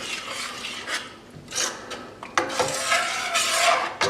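A spoon stirs tomato paste into a meatball sauce in a pan, making wet scraping and sloshing strokes that grow louder and thicker in the second half, close up with no talking.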